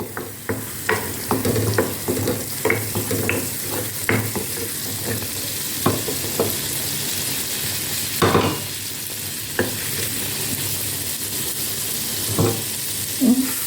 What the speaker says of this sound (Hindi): मैं 1/2 टीस्पून लहसुन अदरक का पेस्ट डाल रही हूँ, इसलिए कि लहसुन अदरक मैंने उसमें भी डाला है ये जब मैं चिकन उबाल रही थी।